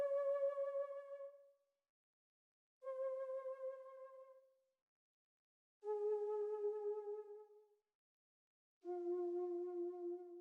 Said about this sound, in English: So I added this flute.